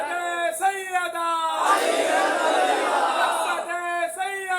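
At a Muharram majlis in an imam bargah, a single amplified voice calls out a religious slogan, the crowd roars a loud massed response for about two seconds, and then the lead voice calls again.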